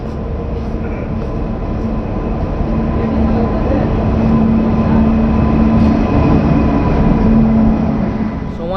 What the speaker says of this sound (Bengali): বিফোর টাইমেই কিন্তু আমাদের তেভাগা মালদাতে এন্ট্রি করছে